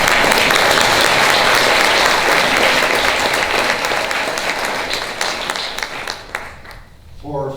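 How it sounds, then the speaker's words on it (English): An audience applauds the candidates at a municipal ward debate in Burlington, a dense, steady wash of clapping from many hands that thins and fades out near the end. "all of the candidates deserve our round of applause"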